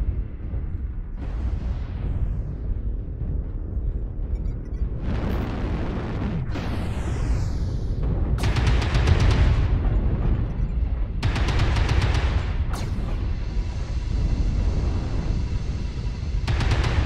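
Missile explosions in the MechWarrior Online video game, a run of heavy booms and bursts layered over a continuous low rumble, loud and close, with several sharp impacts arriving in quick succession.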